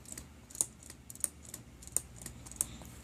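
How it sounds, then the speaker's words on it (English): Soft, repeated clicking of plastic toy joints ratcheting, a quick irregular series of small ticks, close and quiet. "Soft ratchet joints. Beautiful. A perfect 90-degree bend."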